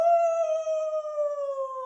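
A human voice imitates a coyote howl with one clear, sustained tonal note that holds steady and drifts slightly downward, sounding close and alone for about two seconds.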